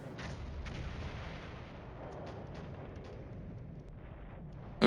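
Artillery fire during a night assault in the Cold War wargame Flashpoint Campaigns: a continuous low, rumbling barrage with scattered muffled thuds, steady and fairly distant, with no voices.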